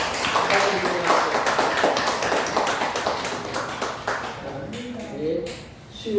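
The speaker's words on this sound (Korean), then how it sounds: "우리 축하의 박수를 한번 다시 한번 박수해 드리겠습니다" A Korean church congregation applauds newly baptized members during Sunday worship, a sustained round of clapping that tapers off, with voices murmuring underneath as it dies down.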